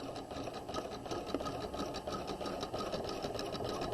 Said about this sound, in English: We're going to stitch along the sleeve.